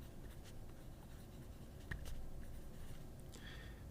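A Rotring 600 0.7 mm mechanical pencil writing on paper, a faint continuous close scratching with a few small taps.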